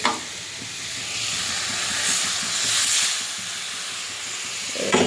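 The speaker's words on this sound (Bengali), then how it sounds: "এবারে ভালো করে মশলাটা কষিয়ে নেব।" Turmeric spice paste fries and hisses steadily in a pan while being cooked down for a village-style mustard-poppy seed dish, a continuous close sizzle with small swells and no talk.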